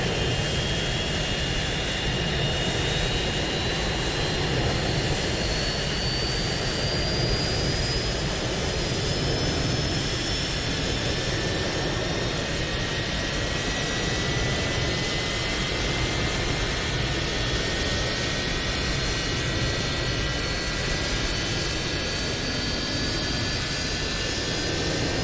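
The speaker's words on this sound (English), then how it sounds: "Waiting your confirmation for a good engine start." A steady, loud jet engine roar runs the whole length of a McDonnell Douglas MD-88 airliner start in Microsoft Flight Simulator 2020, with rising turbine whine tones climbing gradually and no talk over it.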